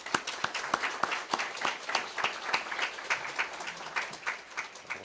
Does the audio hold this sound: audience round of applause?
yes